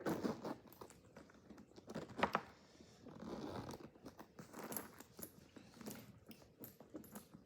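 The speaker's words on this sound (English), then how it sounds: "A zipper." Zipper pulled closed on a Louis Vuitton Speedy 25 trunk-style bag packed full, heard as a run of close crinkly rasps and clicks with leather and handling noises, no talk.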